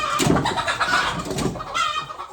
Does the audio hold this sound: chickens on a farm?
yes